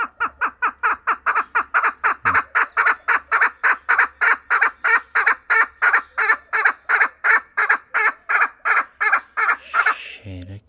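Chickens clucking rapidly in a long, regular series of loud, close, evenly paced calls, continuing without pause for about ten seconds before a brief rustle at the end.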